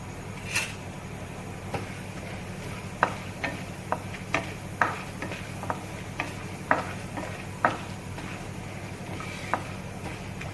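Chana dal dry-roasting in a pan, sounding as a steady faint sizzle with scattered light ticks and clicks as the lentils are stirred and shifted, with no talking.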